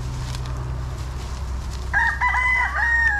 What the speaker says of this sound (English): Look at this mean little rooster.